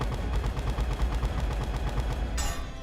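Rapid rhythmic gunfire from the Kryptonian Rifle in the fighting game Injustice: Gods Among Us, a steady stream of loud, dense shots running throughout, ending in a bright burst near the close.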